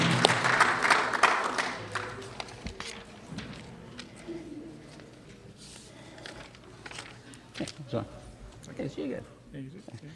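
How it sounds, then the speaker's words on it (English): Audience applause fills a convention centre hall, loudest at the start and then thinning into scattered clapping and crowd noise, with a few louder bursts returning near the end. "Let's have a round of applause."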